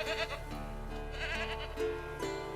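A tethered goat in The Witcher 3: Wild Hunt bleats in a couple of wavering calls, close and moderately loud over a steady low background hum.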